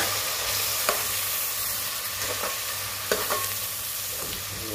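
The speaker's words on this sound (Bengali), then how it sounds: "এগুলো আমি ভালোভাবে মিশিয়ে নেব।" Spices being stirred into a pan of dried churi fish, broad bean seeds, eggplant and potato, with a steady low sizzle and a few sharp scraping strokes of the spoon, close and without talk.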